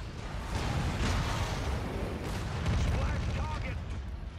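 A destroyed mech explodes in a mech combat video game, a dense rumbling blast with crackling debris rolling on for several seconds, loud and close.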